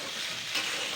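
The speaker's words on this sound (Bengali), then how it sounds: "জাস্ট আমি 2 মিনিট মতন নাড়াচাড়া করে নেব।" Potato and wheat-flour mixture stirred in a kadai, giving a steady, close scraping hiss with a faint sizzle that runs throughout the brief moment.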